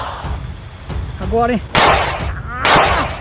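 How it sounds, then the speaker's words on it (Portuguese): Two loud, sharp gunshots ring out from a firearm at close range, each a sudden blast with a short echoing tail, while someone speaks briefly just before them. "Vou dar mais um tiro pra estreitar ela."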